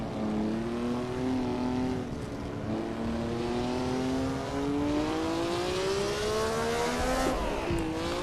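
A 1957 Formula 1 race car in Assetto Corsa, lapping the Argentine Grand Prix circuit at Buenos Aires. The engine drones loud and near, its pitch climbing steadily before a gear change near the end, with no talk.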